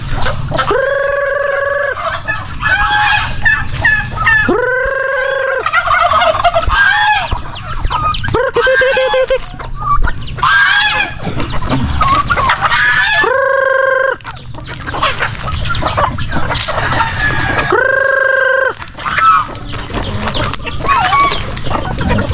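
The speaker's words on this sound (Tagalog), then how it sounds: "ito naman yung mga manok at pabo, nag-aantay na rin sila" Loud, busy barnyard chickens and turkeys: chickens clucking and squawking with repeated honking gobble-like calls from the turkeys, overlapping close by throughout.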